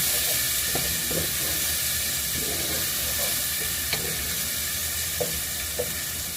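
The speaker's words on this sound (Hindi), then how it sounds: "प्याज सही से फ्राई हो रहा है।" Onions frying in a pan give a steady, close sizzle and hiss throughout, with a few faint clicks of stirring and no talking.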